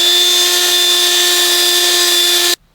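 Power drill working a part during a 9.75 axle rebuild for a 2004 Ford F-150, a loud, steady high whine held without a break for over two seconds before cutting off abruptly.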